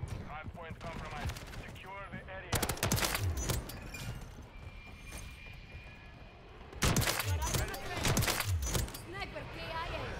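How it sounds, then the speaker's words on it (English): Kar98k bolt-action rifle fire in Call of Duty: Modern Warfare III, sharp loud shot bursts near the start, around three seconds and again near seven to eight seconds, over ongoing game ambience and battle noise. "I'm hitting my shots pretty well"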